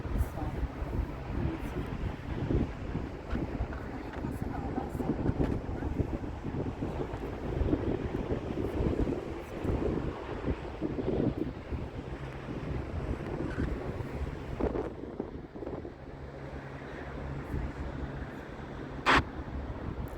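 Wind buffets the microphone in a steady roar throughout, in fog on a riverside embankment in Dnipro, with a murmuring voice partly buried beneath the gusts.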